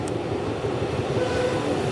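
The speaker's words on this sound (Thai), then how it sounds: "ก็ไปรอขึ้นรถไฟค่ะ ที่ชานชลาอันนี้เป็นรถไฟธรรมดาค่ะ" Regular passenger train in South Korea, a steady loud rumble of rolling wheels and carriage noise close by with no voices.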